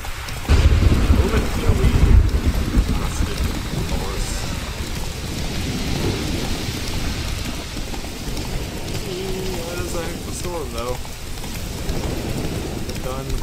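Heavy rain pours steadily with a deep rumble of thunder near the start in The Witcher 3: Wild Hunt, while someone talks briefly over the storm.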